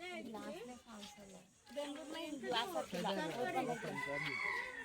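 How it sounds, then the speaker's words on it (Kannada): A rooster crows at a lion safari park in Shivamogga, its harmonic calls rising and falling over several seconds amid people talking nearby. "ಕೋಳಿ ನೋಡೇ"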